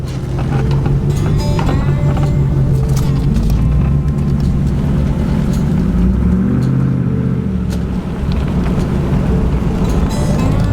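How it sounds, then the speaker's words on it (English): Deep exhaust rumble from a nearby Chevrolet Trailblazer SS engine, loud and sustained, with pitch shifting as it revs and settles. "I love the exhaust sound on the SS Trailblazer."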